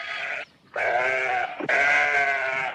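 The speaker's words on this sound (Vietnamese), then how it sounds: "Sheep." A sheep bleats twice up close, loud quavering calls separated by a short gap, the second longer and stronger, with no other sounds.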